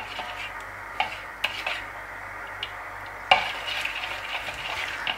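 Spoon scraping and clinking against a bowl while thick chili gobhi batter with black pepper is mixed, scattered sharp taps over a quiet background with a faint sizzle.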